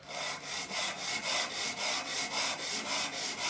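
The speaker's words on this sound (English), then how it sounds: "a piece of sandpaper on there. I just really want to get that flat, so I just rub it" Sandpaper laid on a flat aluminium surface rubs down an engine part from a Mercury 3.3hp outboard being rebuilt, making loud, close, rhythmic rasping strokes at a steady back-and-forth pace with no pauses.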